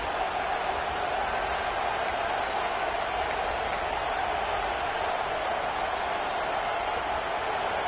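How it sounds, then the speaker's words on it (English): Stadium crowd at a Miami football game, a broad, sustained roar of many voices filling the background under a commentator's talk. "This crowd bringing the energy and noise early."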